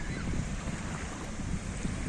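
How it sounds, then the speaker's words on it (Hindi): Sea waves wash up a beach in Qatar, a rough, surging rush of surf mixed with wind buffeting the microphone, filling the whole stretch. "आवाज़ आ रही है आपको समुद्र की।"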